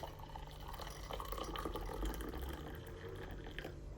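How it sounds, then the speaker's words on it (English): Boiling water poured onto coffee in a workshop, a steady gurgling stream of liquid filling a cup for about four seconds, close and moderately loud with no talk over it. "Boiling water onto the coffee."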